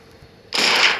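A cowboy pumpkin fires a gunshot in the Melon Sandbox game, a single loud, sharp hissing burst that starts abruptly halfway through after near silence and then tails off.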